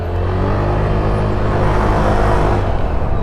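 A Suzuki Burgman Street 125 scooter rides through city traffic in Davao City, giving a steady, close engine drone and road rumble that holds for the whole clip with no speech.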